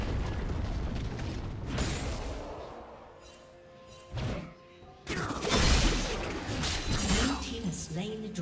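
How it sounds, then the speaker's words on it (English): Turret destruction in League of Legends: several sharp crashing, shattering bursts over dense game effects and music, with a game announcer voice speaking in between. "Red team's turret has been destroyed."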